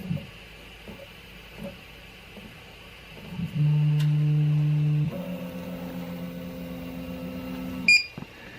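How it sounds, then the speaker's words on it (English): Steady electronic tones from a Prusa 3D printer at filament change, a sustained beep followed by a second, higher tone held for several seconds, with faint clicks before and a short chirp at the end. "let it go to the filament change and listen to all its beeps"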